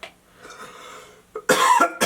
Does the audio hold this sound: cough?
yes